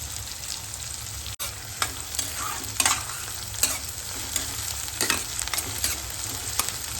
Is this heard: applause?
no